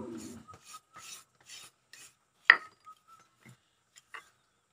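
Panch phoron spices being ground by hand, heard as short, soft rasping rubs in an irregular rhythm, with one sharper scraping knock midway, close and quiet.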